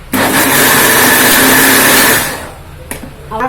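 A kitchen mixer grinder whirring with cumin seeds and asafoetida inside, running loud and steady for about two seconds before winding down, followed by a faint knock and light handling sounds.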